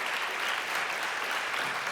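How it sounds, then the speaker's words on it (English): An audience at a drug development and AI conference applauding Professor Nahmias, a dense, steady wash of many hands clapping throughout, moderately loud and evenly sustained. "let's give a huge round of applause"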